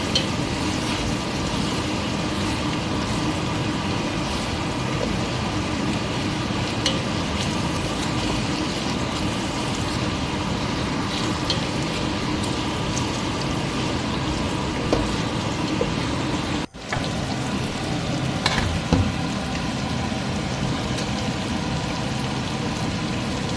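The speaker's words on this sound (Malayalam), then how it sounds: "അപ്പോൾ അതിലേക്ക് കുറച്ച് തക്കാളി കൂടെ ആഡ് ചെയ്ത് നല്ലവണ്ണം മിക്സ് ചെയ്ത് കൊടുക്കുക." Tomatoes are stirred into chicken biryani masala frying in a pan, giving a steady, rain-like sizzle for over twenty seconds with a brief break near the seventeen-second mark and no talk.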